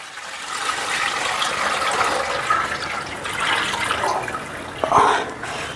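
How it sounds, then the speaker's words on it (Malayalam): Milk streams from a container into a cooking pot for semiya payasam at home, making a close, continuous pouring and splashing that swells partway through and ends with a short louder splash. "പാല് ഇതിനകത്തോട്ട് ഒഴിക്കാൻ പോവാണ്"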